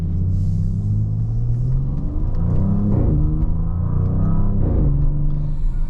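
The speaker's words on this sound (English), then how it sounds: "you can hear this car produces some crackles and pops" A 2022 Audi S7 twin-turbo V6 revs loudly up and down, its deep throaty rumble rising and falling in several surges with faint crackles and pops, close and continuous.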